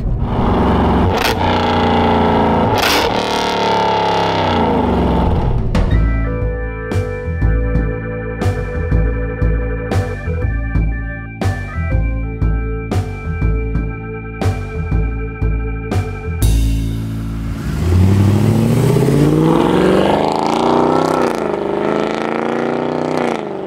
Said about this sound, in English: today I'm driving an legendary German performance car. This is a CLK63 Black.